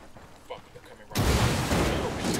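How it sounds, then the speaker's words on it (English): A grenade goes off in the video game Ghost Recon Wildlands, a sudden loud burst that cuts in after quieter moments and trails off into a sustained roar. "There goes another nade that flew way over us."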